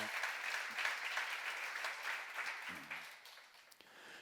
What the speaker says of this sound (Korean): 믿는 사람만 박수해.